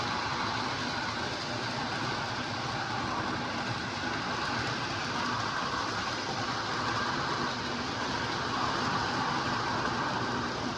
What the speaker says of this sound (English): Hard to believe that big diesel, big SD40 is running on the bottom that good like that.